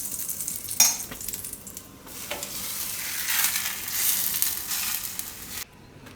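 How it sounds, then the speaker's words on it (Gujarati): Radish paratha roasting in ghee on a hot pan gives a steady close sizzle and frying hiss, with a few sharp utensil scrapes and taps, then cuts off near the end. "તો બધા એ રીતે આપણે ઘીમાં શેકી લઈશું."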